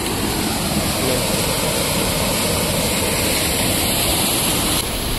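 Water rushing through a water-powered flour mill grinding wheat on a mountain trek, a loud, steady, unbroken roar filling the whole clip without pause.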